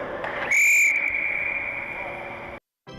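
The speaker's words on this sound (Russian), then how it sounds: "Звучит свисток судьи, и команды выходят на второй тайм." A referee's whistle blows once at an ice hockey match, a short shrill blast over a noisy arena crowd, followed by a sustained tone and general rink din.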